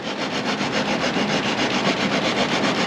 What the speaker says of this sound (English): go to sanding on this stuff and soften that edge